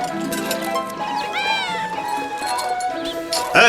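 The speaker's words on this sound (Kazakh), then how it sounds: "Мысық табыңдар, мысық" A cat's meow rises and falls once, clear against a busy indoor background with people talking around it, inside a yurt in an animated cartoon.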